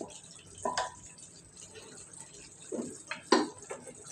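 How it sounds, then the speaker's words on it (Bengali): Potatoes are tipped into a cooking pot, making a few close clattering thumps and scrapes against the metal, with faint sizzling between the knocks. "এই যে আমি আলুগুলি দিয়ে দিচ্ছি।"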